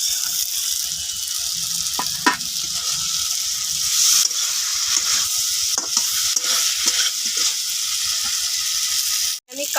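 Fried mola fish go into a pan of half-boiled potatoes for jhal, bringing a close sizzle with repeated scraping stirs and utensil clatter, and a sharp knock near the end.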